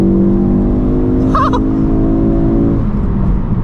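A Ford Focus RS at full throttle from about 2,500 RPM, heard from inside as a loud, steady engine drone with a rising tone and a brief whine partway through.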